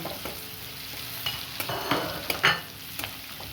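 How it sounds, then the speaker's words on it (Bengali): Soft sizzling of chopped green chillies frying in hot spiced oil, with occasional stirring scrapes and small pops, close and fairly quiet. "আর এই কাঁচা লঙ্কা কুচি দিয়ে দিচ্ছি ফোড়নে। এটা একটু হালকা করে ভেজে নিতে হবে।"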